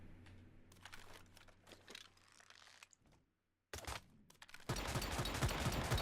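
Gunfire and an explosion ring out in the shooter game Once Human, from a weapon with the JAWS mod and an unstable bomber effect. Sharp shot bursts come first, then a brief silence, then a loud, dense blast that runs to the end.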